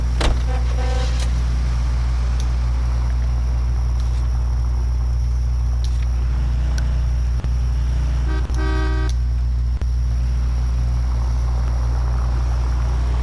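A car engine in the L.A. Noire video game: a steady, loud low-pitched drone that runs throughout with no speech, joined by a few brief tonal blasts like a horn and a short burst of higher tones partway through.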